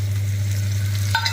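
Ginger garlic paste fries in a pan for prawn gravy, sizzling and scraped by a stirring spoon over a steady low machine hum, with a sharper clatter of the utensil near the end.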